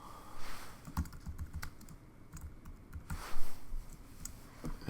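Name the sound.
typing text on a computer keyboard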